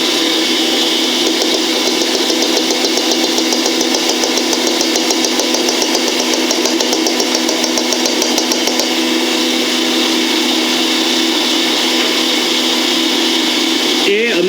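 An electric mixer whips vanilla cream with icing sugar, a loud continuous whirring buzz that holds steady throughout before briefly changing at the end.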